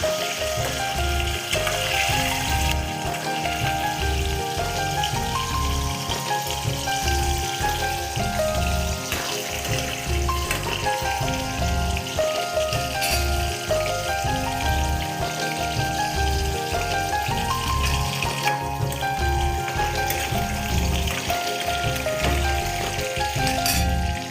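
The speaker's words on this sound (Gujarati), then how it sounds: "તેલ આપણું ત્યાં ગરમ થઈ ગયું છે. તો ચલો આપણે મિત્રોને ડુંગળીને આપણે સાતળી લઈએ, કચરી તેને તળી નાખીએ" Onions frying in hot oil in a pan, a loud, continuous close sizzle and crackle like heavy rain, with occasional light clinks of a utensil, no speech.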